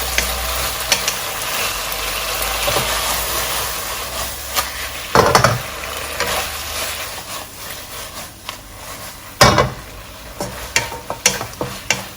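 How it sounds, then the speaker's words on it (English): Beef stir-frying in a pan: a continuous close sizzle with scraping and knocking of a utensil stirring the meat, occasional sharper clanks rising above the hiss. "We just fry them until we can no longer see any of this redness on the meat."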